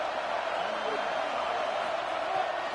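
A large crowd roars steadily at a live football game in a stadium, a loud, continuous wash of cheering with no breaks.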